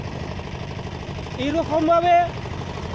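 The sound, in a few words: engine boat motor running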